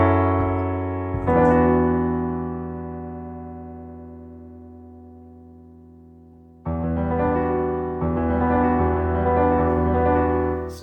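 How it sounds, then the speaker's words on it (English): Piano chords of a song with guitar layered on top: a sustained chord rings and slowly decays, then the instruments come back in fuller and louder, with no one talking. "So that second time around, the chords sound like this"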